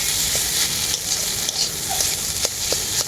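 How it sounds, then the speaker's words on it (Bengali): Potatoes frying in a pan with ground cumin, turmeric and chili powder, giving a steady, close sizzle with a few soft stirring scrapes and no voices. "খুব ভালো করে একসাথে ভেজে নেব আমি মশলাটাকে"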